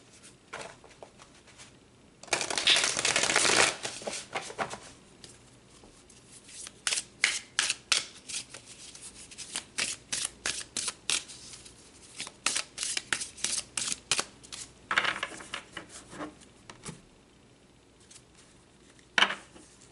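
Tarot cards are shuffled close up in quick, crisp riffles and soft flicks, with an opening burst of dense shuffling followed by many short, rhythmic card slaps; no voice is heard.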